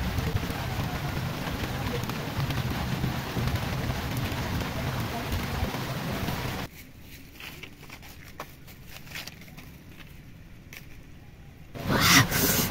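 Steady rain falling outdoors near rice paddies, a dense continuous hiss that cuts to a quieter patch partway through before swelling again at the end, with no talk over it.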